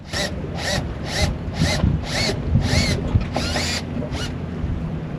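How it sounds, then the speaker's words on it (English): Repeated bursts of a power drill grinding out loose metal rivets on a sailboat mast, about eight short runs with brief pauses, close and loud over a low mechanical rumble. "Then I drill out the loose rivets."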